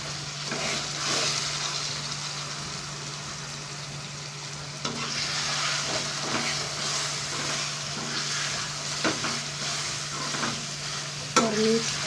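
Chicken and boiled chickpeas sizzle and fry in a pan while being stirred, a continuous crackle broken by scraping strokes of the spoon, with a low steady hum underneath.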